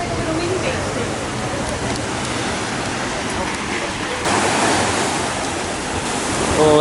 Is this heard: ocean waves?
yes